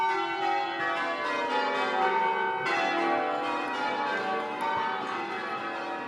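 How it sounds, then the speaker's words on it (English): Full peal of church bells in change ringing, a team of six to twelve bells sounding through tower louvers, overlapping strikes in a continuous rhythmic cascade, loud and steady throughout with no voices. "So the bells ring out through these louvers"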